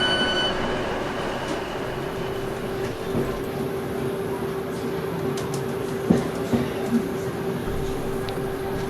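Steady rumble and rattle of a passenger carriage riding behind the Black Five steam locomotive 45212 along the Cumbrian Coast line, a continuous rolling drone with a few sharper clanks and knocks, no voices.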